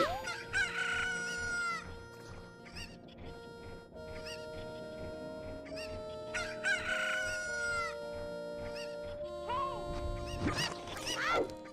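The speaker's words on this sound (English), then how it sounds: "Ah, chickens." Chickens in a Zelda video game, with repeated rooster crowing and clucking over steady game music and tones, continuing throughout.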